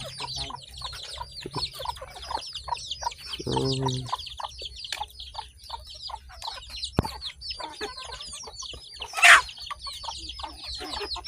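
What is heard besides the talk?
chickens clucking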